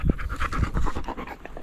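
Dogs panting rapidly in quick rhythmic breaths while resting during a fossil-hunting hike outdoors, close and moderately loud with no talk.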